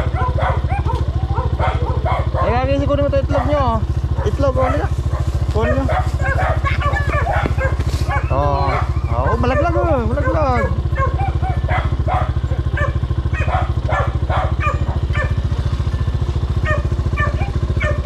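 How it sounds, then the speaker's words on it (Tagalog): A dog barks and yelps repeatedly, loud and close, over a constant low engine-like rumble, with voices talking intermittently. "Ingay ng aso."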